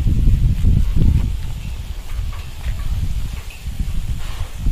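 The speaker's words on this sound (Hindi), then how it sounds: "बहुत प्यारी, बहुत अच्छी हवा चल रही है अभी।" Steady outdoor wind gusts through a rose garden with flowering plants, a broad low rumble of air on the microphone swelling and easing, with faint rustling of leaves and no talk.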